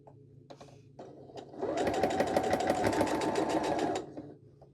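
A sewing machine runs a steady burst of stitching through quilt fabric using a quarter-inch foot, preceded by a few light clicks and handling sounds, close and loud for about two seconds before stopping.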